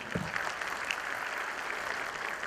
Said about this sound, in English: Giving you a big round of applause for Professor T.V.